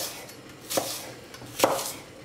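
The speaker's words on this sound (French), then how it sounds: "Et pareil, on va le couper en julienne." A knife cutting the white of a leek into julienne on a board, two distinct chopping thuds roughly a second apart, close and clear with no talk.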